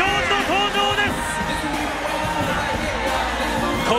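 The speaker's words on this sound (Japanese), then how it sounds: "大歓声の中、堀口恭司の登場です。" A large arena crowd roars and cheers as MMA fighter Kyoji Horiguchi makes his entrance at a Rizin event, a loud sustained wall of voices with whoops and shouts rising over it.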